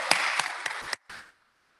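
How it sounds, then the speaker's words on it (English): A county board of commissioners meeting audience gives a kindergartener a short round of applause: a quick, sharp burst of hand claps that stops abruptly after about a second. "Y'all give Logan a round of applause."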